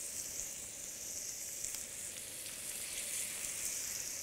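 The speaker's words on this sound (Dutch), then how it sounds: "Hete boter. Kijk, die sist." Hot butter sizzles steadily in a frying pan, a bright continuous hiss with small crackles and pops, close and even throughout with no voices.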